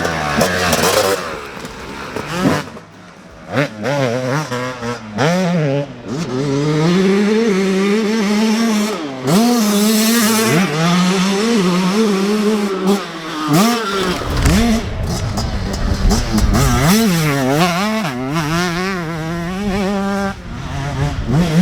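Yamaha YZ125X and YZ250X two-stroke dirt bikes ride trails, their engines loud and close, repeatedly revving up and dropping back in rising and falling whines through shifts and throttle blips.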